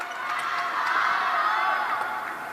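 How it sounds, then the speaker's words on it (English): Arena crowd at the World Table Tennis Championships Finals in Doha cheering and whooping for a mixed doubles pair, a steady, loud wash of massed voices swelling slightly mid-way and holding throughout. "you can hear the crowd really getting behind them as well."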